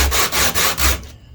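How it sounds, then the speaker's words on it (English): Rough sandpaper rubbed over small wooden knife handle pieces, four rhythmic back-and-forth scratching strokes, close and loud, then fading out. "I'm going to start with the rough sandpaper and then just tidy them up with the smooth"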